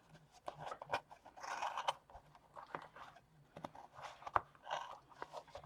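Scissors snip yarn for a scarecrow doll in a quiet room, a close series of soft, crisp cuts and rustles coming in irregular bursts.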